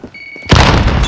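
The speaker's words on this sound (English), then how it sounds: "Throwing grenade." A single loud grenade blast in Call of Duty: Modern Warfare, a sudden deep boom after a brief quieter moment, close and dominating the rest of the moment.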